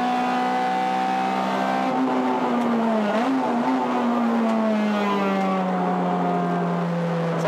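A stripped-out Honda Civic EK4 with a swapped B18C engine screams at high revs on the Okayama International Circuit, a loud, steady onboard howl that shifts pitch slightly as it runs.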